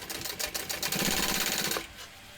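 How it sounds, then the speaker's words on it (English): A sewing machine runs a fast, even burst of stitching along a second row on a small crossbody bag, close and loud for under two seconds before stopping. "I'm going to do that second row of stitching."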